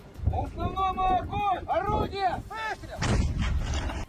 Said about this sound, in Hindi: रूसी सैनिक यूक्रेन की सेना पर तोप से गोले दागते नजर आए